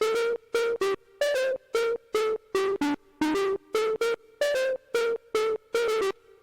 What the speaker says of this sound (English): the second layer is the pluck from Blade Master on my same pack, and it sounds like this.